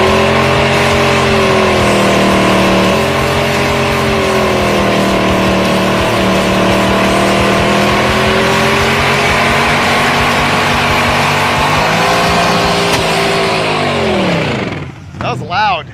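A car with a swapped engine roars at high revs during parking-lot burnouts, a loud continuous engine drone with rising and falling pitch sweeps, ending in a quick drop and a few sharp blips.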